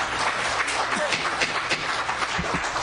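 Audience applause in a lecture setting: dense, steady clapping from many hands throughout, close and fairly loud, with no pauses.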